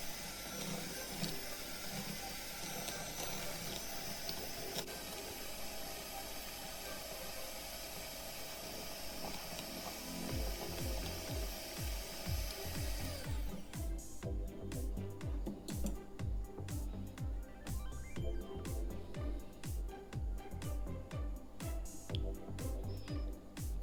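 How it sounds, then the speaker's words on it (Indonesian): A hand mixer on low speed beats five egg yolks with powdered sugar for a Sambas-style kue lapis, a steady close whir and hiss that turns to denser clattering churning partway through, with no talking. "Nah, kita taruh ini 5 kuning telur dan juga gula halus. Ini kita mixer aja. Kita mixer berlahan aja."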